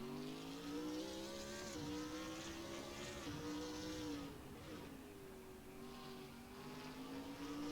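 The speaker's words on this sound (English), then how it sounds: "Revs rising, and we're away" A race car engine in the racing game Assetto Corsa revs up and pulls away at a Goodwood festival of speed event, a buzzing whine that climbs and shifts pitch steadily, loud and with no talking.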